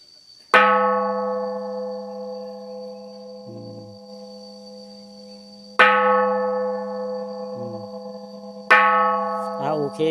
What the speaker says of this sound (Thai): เบิ่งลุงคนมันตีระฆัง3 ครั้ง